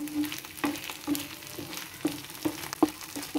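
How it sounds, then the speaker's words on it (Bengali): Mushrooms sizzling steadily with spices in a hot pan, a continuous crackling fry broken by sharp periodic clicks as the mix is stirred, close and moderately quiet with no talk. "এখন আমরা কিছু সময় জাল দিয়ে নিব"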